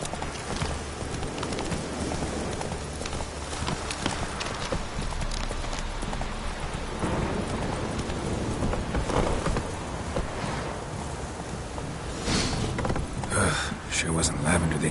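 Roach, a horse in The Witcher 3 video game, gallops with continuous rhythmic clip-clop hoofbeats close by, plus a brief whinny and scattered game sounds, while a voice speaks intermittently over it.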